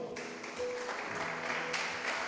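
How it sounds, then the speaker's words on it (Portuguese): A church conference audience applauds during worship, a quiet, continuous patter of many hands mixed with soft sustained music, moderately distant and even in level. "Você pode dar um aplauso para o Senhor?"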